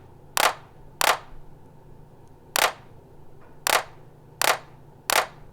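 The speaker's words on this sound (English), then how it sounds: "So now we've got kick, snare, hat, open, and clap." Synthesized drum hits on an MPC ring out as six sharp, crisp percussive strikes, spaced unevenly and loud against a quiet low hum, with no talking.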